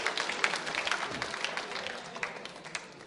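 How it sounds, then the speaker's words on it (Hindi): A school quiz-show audience claps for contestant Deepti, a fairly quiet, continuous patter of hands that holds steady throughout without voices on top. "दीप्ति जी के लिए जोरदार तालियां बजाइए"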